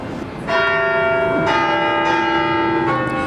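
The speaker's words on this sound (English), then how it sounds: "the bells are now rung electronically" Bells of Notre Dame Cathedral in Paris, rung electronically, pealing loudly and close with rich sustained overtones; a few distinct strikes overlap and ring on without any speech.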